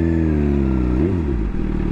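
Motorcycle engine idling steadily up close, then a brief rise and dip in pitch as first gear is engaged and the bike eases off, with a light clunk near the end.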